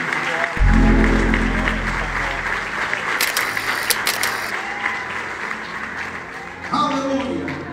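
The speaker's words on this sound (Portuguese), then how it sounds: "Quatro palmas para Jesus." A church congregation claps together in a burst of applause right after a low, booming note at the start, the clapping dense and sustained through the middle before trailing off, with a voice rising near the end.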